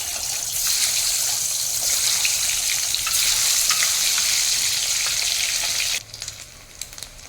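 Eggs seasoned with a little salt and turmeric frying in hot oil in a wok, a loud, crackling sizzle with sharp spatters that holds steady, then drops to a quieter hiss with scattered pops.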